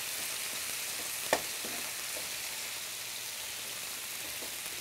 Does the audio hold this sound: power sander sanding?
no